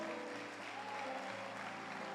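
A church congregation claps during a worship service, a steady, moderately quiet wash of applause with sustained tones from instruments or voices beneath it.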